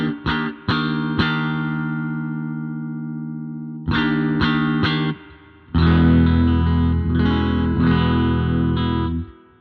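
A Beetronics Larva Morphing Phaser pedal with its preamp ahead of the phaser colours sustained instrument chords. The chords are struck in several bursts and ring out loud with swirling, distorted harmonics, and no voices are heard.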